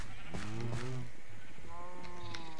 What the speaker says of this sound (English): All you cows get some.